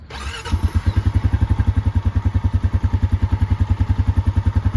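A 2022 Honda Foreman Rubicon Deluxe ATV engine cranks briefly and catches, then settles into a loud, steady, rapidly pulsing idle close by, with no voices.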